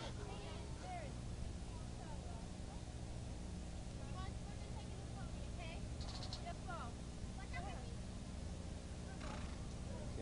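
A horse at the Arkville Fair, with faint hoof clip-clop and an occasional whinny heard at a distance amid steady fairground noise and people talking.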